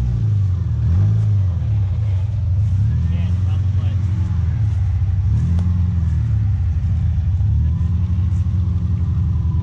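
A go-kart engine revs hard and close, its pitch rising and falling in repeated swells as the throttle is held and the clutch let out on a hill, with voices talking over it.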